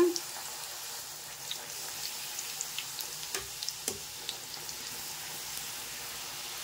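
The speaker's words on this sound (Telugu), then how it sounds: "అండ్ నెక్స్ట్ పూరి వేస్తున్నా." Puri dough frying in hot oil, made to go with aloo curry, gives a continuous close sizzle dotted with small pops and crackles, with a faint voice in the background.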